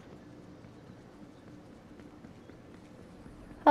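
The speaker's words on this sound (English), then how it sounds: "Hear footsteps." Soft, quick footsteps in Fortnite during a Zero Build duos match, a faint steady patter of light steps running quietly under ambient game sound, with a sudden louder burst at the very end.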